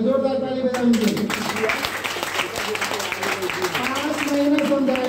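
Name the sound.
audience applause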